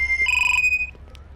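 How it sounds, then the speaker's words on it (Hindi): An electronic phone tone rings, a bright steady beep with a brief chirping pulse, then it cuts off and a few faint clicks follow. "गरिमा क्यों फोन कर रही है?"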